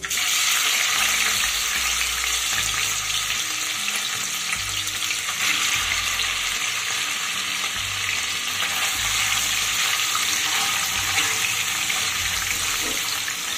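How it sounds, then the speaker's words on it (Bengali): Paneer cubes sizzle and crackle in hot refined oil in a kadai, a loud, steady frying hiss that runs continuously, with occasional low knocks of stirring and no talking. "এবার এই তেলের মধ্যে দিয়ে দেব পনির"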